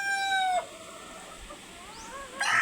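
A rooster crows briefly at the start inside a backyard chicken coop littered with leaves, followed by soft scattered clucks from hens and a short fowl call near the end, all fairly quiet.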